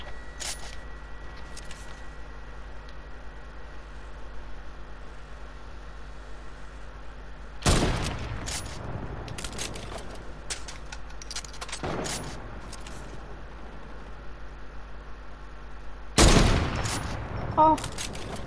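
Heavy sniper rifle shots in a video game, three loud, sharp cracks spaced several seconds apart over a low steady background hum, each followed by a brief burst of clatter.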